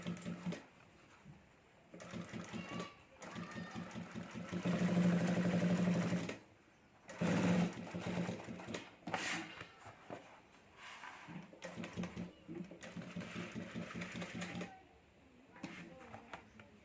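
Sewing machine running slowly as it stitches lining onto a fiber sheet for a handmade round clutch purse, with several bursts of steady whirring broken by short pauses, close by and moderately loud; no talking.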